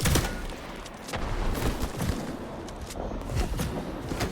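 Gunfire in Vampire: The Masquerade - Bloodlines 2, a dense, noisy clatter of repeated shots and impacts at moderate loudness, running continuously with several sharper bursts standing out.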